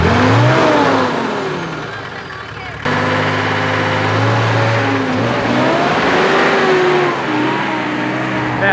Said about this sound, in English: get the revs up and then drop the clutch